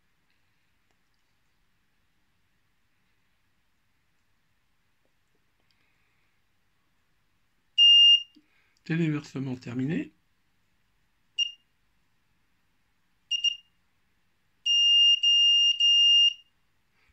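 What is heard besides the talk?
buzzer beeping on ATtiny85 development board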